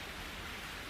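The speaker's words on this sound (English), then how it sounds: "Outside, it's raining." Steady rain falls outdoors as an even, unbroken hiss that continues at the same level throughout.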